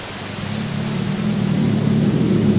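Loud, steady roar of a waterfall in the video game Grow Home, a broad continuous rush of water that swells slightly and holds constant throughout, with no voices.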